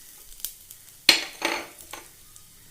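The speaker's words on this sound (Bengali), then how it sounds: "পেঁয়াজ কুচি। এগুলো একটু কয়েক সেকেন্ড আমি নাড়াচাড়া করে নেব, হালকা লাল হবে।" Chopped garlic and onion stirred in hot oil with a bay leaf in an iron kadai, with a few clinking spatula strikes against the pan, one sharp loud clank, and a faint sizzle between, close and without talk.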